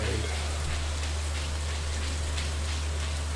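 Steady rain in the video game Stardew Valley, a dense, even hiss with a low constant hum underneath, continuous and fairly loud throughout.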